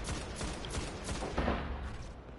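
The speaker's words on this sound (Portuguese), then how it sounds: "Dá tiro de bazuca." Explosive weapon fire in the Destiny raid Vault of Glass, a dense run of overlapping booming shots and blasts, loud and continuous with no talk.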